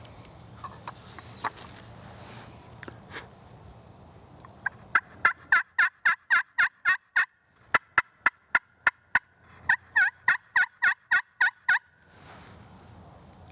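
A handmade walnut striker worked on a turkey friction call, producing a run of sharp, evenly spaced yelps in two bursts with a short gap, loud and close after a few soft scratchy strokes at the start.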